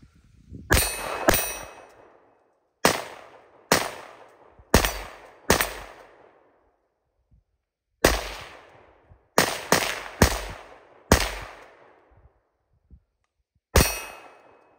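Kel Tec CMR-30 or FN PS90 carbine fire at a range: sharp, loud single shots, some in quick doubles and triples, with metallic ringing and gaps of silence between bursts.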